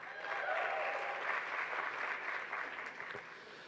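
A crowd at a university convocation gives sustained, loud applause with some cheering. It swells early, then eases slightly toward the end.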